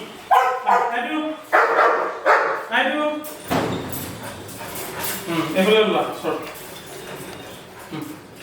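Several dogs of various breeds bark at a dog farm in Assam, with a run of loud, close barks in the first few seconds followed by scattered barking as people talk throughout.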